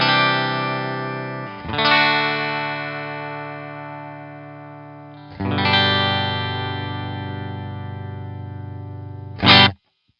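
A distorted electric guitar played through an Invader humbucker pickup in parallel wiring strikes three sustained chords, each ringing and slowly fading before the next, the last cut short.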